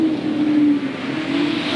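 Sportsman race cars howling around the Hales Corners Speedway oval during a 1993 feature, a loud continuous engine roar with a steady pitch, dipping slightly midway.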